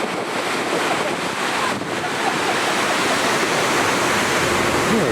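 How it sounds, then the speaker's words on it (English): A waterfall on Kauai, swollen by recent rain, roars as a constant, dense broadband rush of falling water with wind buffeting the microphone throughout. "Well, this is the waterfall."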